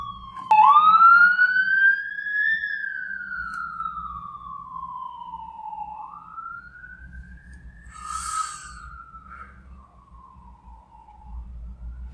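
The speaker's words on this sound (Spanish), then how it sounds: "gracias a ambulancia por estar pasando ahora" An ambulance siren wails loudly at first, its pitch sweeping down and back up as it passes and fades into the distance, with low traffic rumble underneath.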